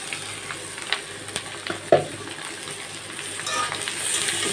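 Snake gourd frying in a pan over a clay stove, stirred with a steady low sizzle, occasional scraping knocks and one sharper clank, moderately faint and close.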